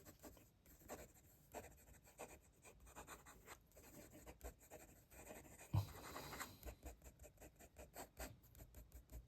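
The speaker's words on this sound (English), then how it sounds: "Quick writing." A Wahl-Eversharp Skyline fountain pen moves quickly across paper, giving a soft, steady run of close, faint scratching strokes with brief pauses between words.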